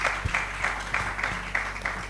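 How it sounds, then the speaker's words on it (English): Applause at a conference forum: a modest round of clapping with uneven, pulsing hand claps in a reverberant hall, heard alone without speech. "So if we can give them a round of applause,"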